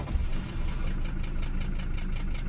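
A Mercedes 300SD diesel engine, long left sitting and just revived, runs at a steady idle with a low, even rumble and a faint knocking clatter, close and alone without talk.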